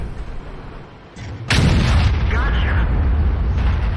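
Tank taking shell hits in World of Tanks: a heavy booming impact strikes suddenly after a quieter stretch, followed by a loud rumbling roar that stays dense to the end, with a voice talking over it.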